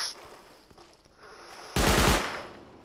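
Burst of automatic rifle gunfire in the survival game Rust, a loud dense volley erupting abruptly after a quieter stretch of ambient game sound, close and sustained for about a second.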